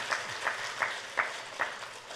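Sparse, scattered clapping from a small audience at a Korean crypto currency event, five or six distinct claps spaced about every half second over a quiet room tone.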